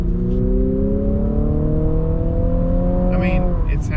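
Engine sound from a 2022 Infiniti QX55 is piped through the cabin speakers, a smooth rising tonal hum like a revving engine, heard from inside the car with brief voices near the end.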